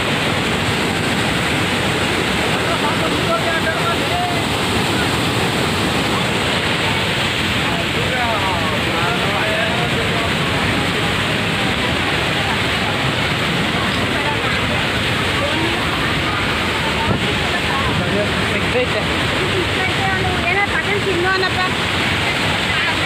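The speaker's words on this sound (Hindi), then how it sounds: "कर्नाटक वाटरफॉल" Hogenakkal waterfall in Karnataka, a continuous loud rush of falling water with a steady broadband roar, even and unbroken, heard close.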